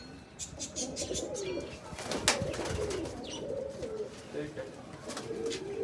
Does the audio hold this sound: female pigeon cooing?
yes